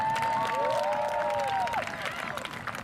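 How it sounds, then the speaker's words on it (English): Applause and cheering fill a high school graduation ceremony for the class of 2014, a steady wash of clapping from a large crowd with a few whistles rising above it. "that's worthy of a round of applause"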